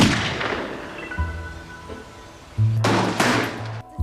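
Gun fired at a bullseye target at a shooting range: two loud, sharp blasts a few seconds apart, each with a ringing tail, and a low steady hum underneath.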